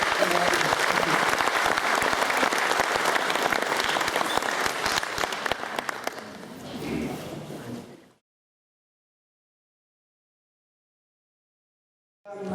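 A crowd at a candidates meeting applauds loudly for several seconds, the clapping gradually thinning and fading out into silence.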